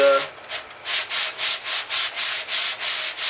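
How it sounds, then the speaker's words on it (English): A sanding block rubs over dried wood filler on wood, a close, steady back-and-forth scrape repeating in even rhythmic strokes. "So we're going to just sand it smooth."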